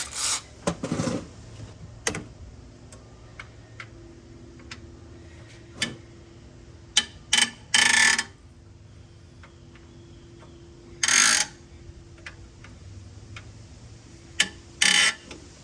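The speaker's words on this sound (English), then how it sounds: "We got a regular ratchet." Sharp ratcheting bursts and rasps from a regular ratchet breaking bolts loose on a Ford 6.0 engine, coming in short irregular spurts with small clicks and clanks between them in a quiet shop.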